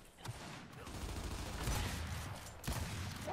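Rapid gunfire from the shooter game Gears 5 crackles in dense bursts, with a few sharper shots standing out over a loud, continuous wash of battle noise.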